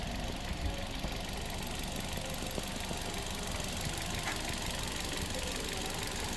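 Petrol engine of a 2017 Hyundai Elite i20 Asta idling, a quiet, steady low hum that holds evenly throughout with no revving and no talk over it.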